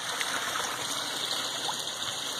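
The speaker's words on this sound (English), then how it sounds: "The waterfall." Garden pond waterfall spilling into a pond with a bottom drain, skimmer and sand-and-gravel filter return, a steady close rushing and splashing of water that stays even and continuous throughout, with no talking.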